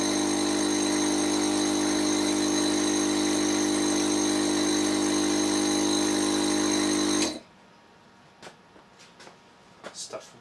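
An electric car's power brake vacuum pump, fitted with an empty muffler, runs with a loud, steady mechanical hum and whir for about seven seconds, then cuts off, leaving faint clicks and handling noises.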